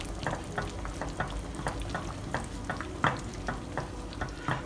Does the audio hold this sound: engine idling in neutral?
no